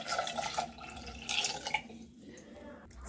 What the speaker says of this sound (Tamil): இந்த பொட்டேட்டோஸ் எல்லாம் உள்ளே போட்டுட்டு கொஞ்சம் தண்ணி ஊற்றணும்